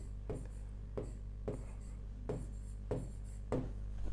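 Chalk strikes a classroom board in short repeated bursts roughly every half second to a second, close and fairly clear over a steady low hum during an atomic structure lecture.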